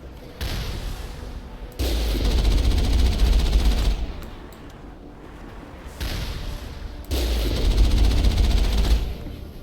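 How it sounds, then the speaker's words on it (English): An Alliance heavy turret in Mass Effect fires in long, loud bursts of rapid booming gunfire, two sustained barrages separated by a quieter lull, with heavy low-end thumps throughout. "Careful. Alliance heavy turret."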